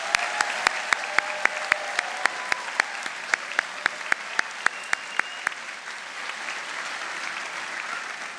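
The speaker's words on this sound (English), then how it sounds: "How about another huge round of applause for all our graduates and our award winners?" Sustained audience applause at a spring graduation convocation honoring graduates and award winners, a steady broadband roar of many hands with sharp individual claps standing out in the first half, continuing evenly to the end.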